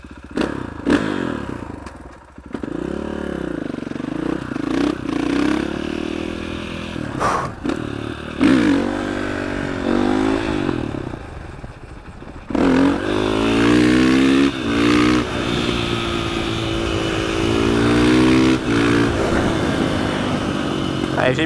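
KTM 500 EXC-F four-stroke enduro motorcycle with an FMF exhaust, climbing uphill on a wet road, engine note rising and falling through revs and gear changes, loud and close throughout.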